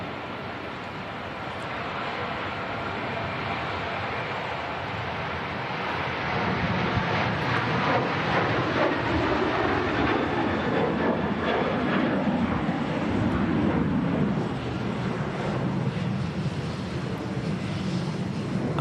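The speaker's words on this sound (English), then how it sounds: "See the blades spinning. Another Ryanair UK aircraft." A Ryanair UK airliner departing Manchester Airport, giving a loud, steady broadband engine roar that builds slightly and holds for the whole stretch, with no talking.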